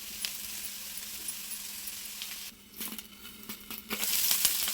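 Potato fry (aloo fry) for a children's lunch box sizzles steadily in a pan, a close, continuous crackle with brief stirring scrapes toward the end and no talk.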